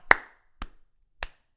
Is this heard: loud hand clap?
yes